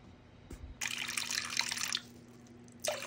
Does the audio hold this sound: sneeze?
no